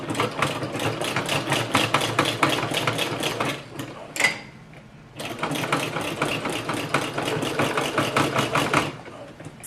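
A sewing machine stitches a new denim waistband in fast, steady rapid-fire bursts, pausing briefly in the middle before running again, close and fairly loud.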